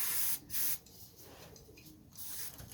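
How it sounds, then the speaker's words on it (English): Chain cleaner sprayed onto a Honda CBR500R motorcycle chain, two short aerosol hisses close by followed by softer hissing and rubbing. "Get plenty of cleaner in there"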